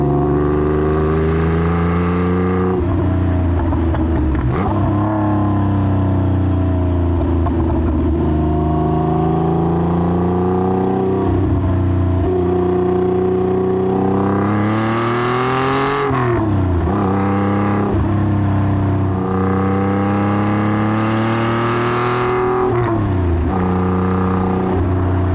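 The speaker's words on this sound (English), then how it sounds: "This is a very healthy engine and makes a great noise too." TVR Tuscan engine pulling hard on an open road, loud in-car roar climbing through the revs with gear changes and dips between repeated accelerations.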